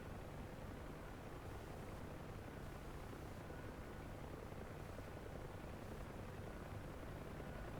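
A UH-1 Huey helicopter in the DCS flight simulator over Cyprus drones on as a constant, faint, washy rotor and turbine hum with no breaks or voices.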